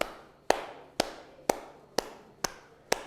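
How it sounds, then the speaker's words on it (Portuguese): Steady hand clapping, seven crisp claps evenly spaced about half a second apart, close and alone in a quiet room with a faint reverberant tail after each. "bater palmas"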